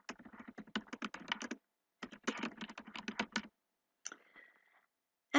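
Fingers type on a computer keyboard in quick bursts of close, crisp key clicks with short pauses between them, then a few isolated taps near the end.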